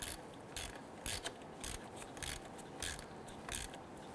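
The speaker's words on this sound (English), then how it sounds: "Go ahead and get your ratchet on there." A ratchet clicks in quick, uneven bursts while a neutral safety switch is replaced on a 2006-2010 Hummer H3. The clicks are faint and close over a quiet background hiss.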